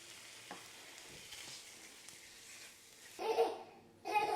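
Minced beef and onions frying in a pan, a faint soft sizzle with light clatters, briefly louder toward the end.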